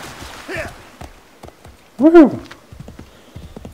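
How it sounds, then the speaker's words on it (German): Horse hoofbeats in the video game Assassin's Creed 3 clop along steadily, with a short neigh rising partway through, over faint background game sounds. "wir reiten jetzt erstmal Richtung Ausrufezeichen"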